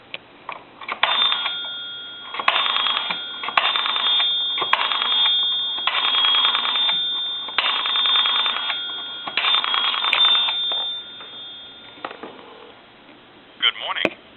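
Ringback tone heard through the handset of an A&E three-slot payphone while it dials a time-and-temperature number: several repeated ring bursts with short gaps, loud and close, ending with a brief click.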